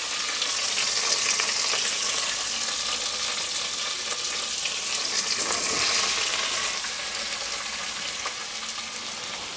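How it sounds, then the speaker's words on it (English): Bones sizzle steadily in a hot pot for bone broth, a loud continuous frying hiss with faint stirring crackles throughout and no talking. "let's get these guys frying"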